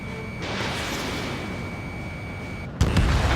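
An in-game missile from Ace Combat 7 strikes its target: a steady roar of jet noise with a sustained tone, then an abrupt loud burst of impact near the end.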